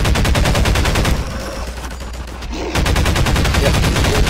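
Rapid automatic gunfire in Half-Life 2, loud and close, with sustained bursts that stop for about a second and a half and then resume at the same fast rhythm, with no talking.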